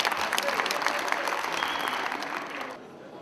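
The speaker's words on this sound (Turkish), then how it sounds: "Bir alkış alalım şöyle" An audience at a gathering of Malatya natives in Başakşehir gives sustained, dense applause that tapers off near the end.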